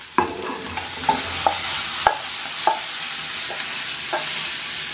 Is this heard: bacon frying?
yes